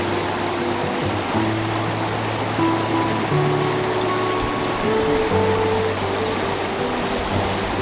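Clear, cold, fast-flowing river water in Northeast Victoria rushes in a steady, continuous wash that stays loud and unbroken throughout, with no voices.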